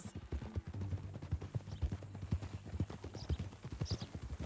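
Steady hoofbeats of a horse in Red Dead Redemption 2 clip-clop close and loud across the whole stretch, with a low rumbling tone underneath and faint bits of other sound higher up.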